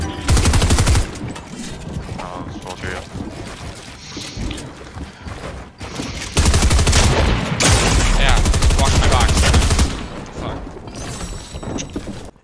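Sniper rifle fire in a shooter video game comes as loud, sharp bursts of shots near the start and again in the middle, with busy game noise and faint voices in between.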